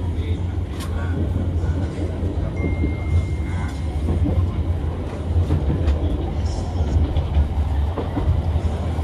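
Steady rumble and clatter of a passenger train running straight through Solo Balapan station on the Jogja to Malang route, heard from inside a carriage, continuous and loud with faint wheel clicks throughout.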